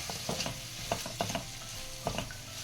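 Mango rice (chitranna) made with raw mango and grated coconut being stirred in a pan, the spoon producing irregular scraping and tapping strokes over a low, steady sizzle, with no voices.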